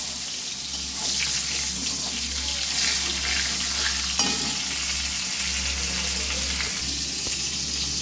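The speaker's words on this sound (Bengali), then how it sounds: "বেগুন তো তাড়াতাড়ি নরম হয়ে যায়, তাই ভেজে তুলে রাখবো।" Eggplant pieces frying in oil in a pan, a steady broadband sizzle that holds near and fairly loud throughout, with a few faint clinks and stirring sounds and no talking.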